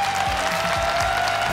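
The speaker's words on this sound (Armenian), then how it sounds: "Ծափահարություններով բարձր ծափահարում ենք Բրունոյին" Audience applause for a contestant named Bruno on a televised Armenian talent show competition day, steady dense clapping with a tonal hum running through it.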